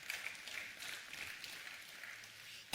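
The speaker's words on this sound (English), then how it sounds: "come on, clap" An audience at a church sermon applauding with a steady wash of clapping that continues throughout, moderately loud, before a sudden sharp burst at the very end.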